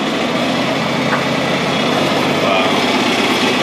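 A John Deere 4020 tractor engine runs steadily nearby, a loud continuous drone while a person talks over it.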